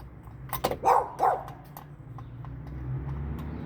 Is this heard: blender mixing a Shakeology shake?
no